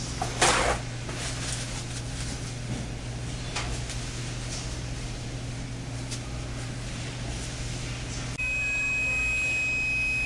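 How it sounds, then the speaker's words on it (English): A continuity tester gives off a steady, clear high tone near the end, confirming a good fiber optic splice during a Jameson Duct Hunter repair, after a stretch of handling noise and a constant low hum. "The tone means we've got a good splice"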